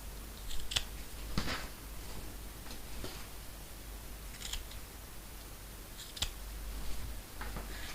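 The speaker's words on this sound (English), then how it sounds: "So take care not to snip through your stitches" Scissors snip threads on sewn backpack straps, producing several short, crisp clicks scattered at irregular intervals over a faint background hiss, with no voices.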